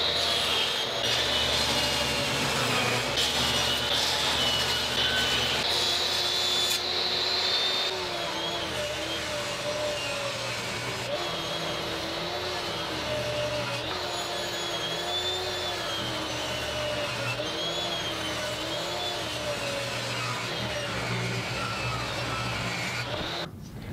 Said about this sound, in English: we're gonna run these on the table saw, make sure everything is cut nice and straight and square